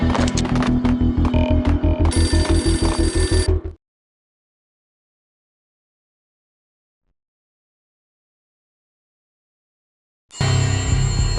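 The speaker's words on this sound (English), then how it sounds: "A beaten-up phone in the entrance hall was ringing." A beaten-up telephone in an entrance hall rings loudly in a PS5 western action game, with insistent rapid bell trills in bursts, then a long silence before the ringing resumes.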